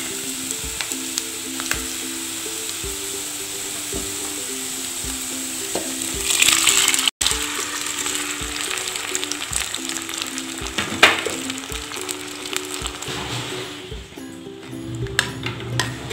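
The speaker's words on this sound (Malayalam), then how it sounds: "ഇനി നമുക്കിതിലേക്ക് പരിപ്പും പടവലങ്ങയും വേവിച്ച് വെച്ചേക്കുന്നത് ഒഴിക്കാം." Cooked dal and snake gourd are poured into onions frying in a pan, bringing a steady sizzle with spoon-on-pot clinks and scraping stirs, a brief splash and hiss partway through, then continued bubbling and stirring.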